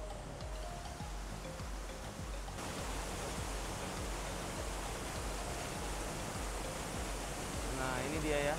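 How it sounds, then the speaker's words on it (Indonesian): Curug Cisanca waterfall gives off a steady broadband rush of falling water that stays close and constant, growing a little louder near the end. "Kita udah sampai di Curug Cisanca air terjun."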